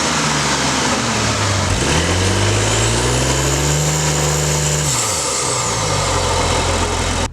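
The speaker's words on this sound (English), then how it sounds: "Right now I'm trying to get some intake noises" Audi S4 B9.5 engine intake noise: a sustained loud engine drone whose pitch climbs, holds high for a few seconds, then falls back, with a faint high whine sweeping above it and no talking.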